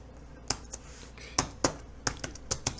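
Keys tapped on a computer keyboard while entering a line of text into a design editor, a handful of sharp separate clicks in irregular bursts, close and fairly quiet, with no talking.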